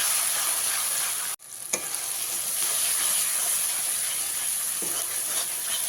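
Tomato paste fries hard in hot oil with spices for a Bengali jackfruit and prawn curry, a loud continuous sizzle broken by a sudden brief drop to near silence, then resuming with a few scraping stirs.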